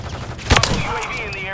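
Gunfire in the video game Call of Duty Modern Warfare III cracks out in a short burst during a multiplayer match, a loud sharp report with ringing tail over steady in-game background noise.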